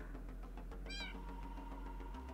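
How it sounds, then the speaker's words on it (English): A cat meows once, a short rising call standing out clearly over steady low background hum, with no talking around it. "I hear a cat."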